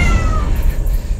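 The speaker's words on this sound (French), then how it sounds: "C'est rien, c'était un chat." A single close cat meow, drawn out and slightly plaintive, over a soft background rumble.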